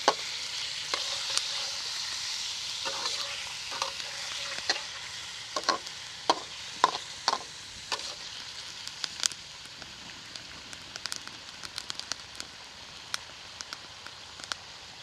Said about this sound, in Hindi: दो तीन मिनट के लिए इसे इस तरीके से फ्राई कर लेंगे।